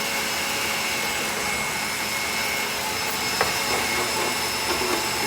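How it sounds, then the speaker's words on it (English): A food processor fitted with a blade grinds almonds and sugar into fine flour as a loud, steady, close motor whir that runs unbroken with a slight gritty rasp. "We'll put the almonds in there in a food processor with the blade."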